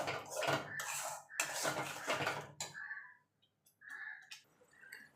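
Prawns cooked with yogurt are stir-fried in a pan with loud, close metal scraping and clattering, then a few softer clinks and scrapes after a brief pause.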